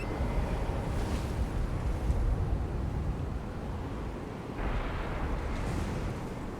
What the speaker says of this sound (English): Up here it's just windy.